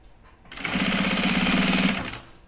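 A sewing machine runs a single steady burst of back stitching along a bag seam, the rapid needle rhythm loud and close, starting abruptly and stopping after about a second and a half with no talk.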